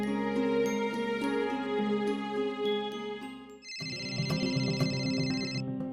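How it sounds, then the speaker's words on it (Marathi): A mobile phone ringtone plays in a home setting, a steady melodic tune with a background music bed, then shifting partway through to a brighter, higher electronic ring that sounds alone without talk. "आदित्य बाबांचा फोन"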